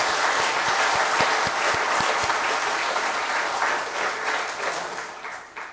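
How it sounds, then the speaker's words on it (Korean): A church congregation applauds its young adults on a youth Sunday: dense, sustained clapping filling the room, loud at first and gradually thinning and easing off toward the end. "우리 함께 박수하시겠습니다."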